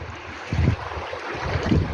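Floodwater rushing after Typhoon Kristine's storm surge, a steady broadband wash of moving water with gusty wind buffeting the microphone and a few low surges, no talking.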